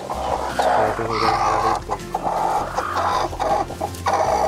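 Native chickens clucking around a shared egg nest, a close, busy farmyard chorus of overlapping clucks and low murmurs that runs steadily throughout.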